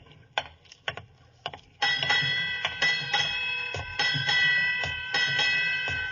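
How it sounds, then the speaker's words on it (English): A ship's bell strikes eight bells at midnight off the Scilly Isles. Sharp metallic dings come first, then sustained ringing tones struck again in paired rhythm, loud and close. "8 bells."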